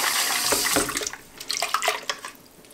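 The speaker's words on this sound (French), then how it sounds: "Donc là je vais rincer ça" Running tap water pours into a kitchen sink while an object is rinsed under the stream, splashing loudly at first and then breaking into uneven spatters and drips.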